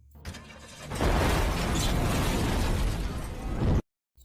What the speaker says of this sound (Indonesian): tiba-tiba saja kendaraan itu meledak